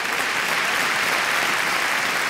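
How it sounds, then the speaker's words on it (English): An audience at an evening gala claps steadily for a troupe of dancers, dense sustained applause filling the room at an even level. "so we applaud them all"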